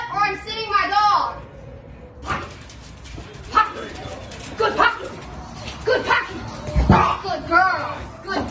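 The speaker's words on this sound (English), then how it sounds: "Get up or I'm sitting my dog." A police K9 dog barks and yips on command, several sharp barks spread across the stretch with whining sounds mixed in, close by, while people talk in the background.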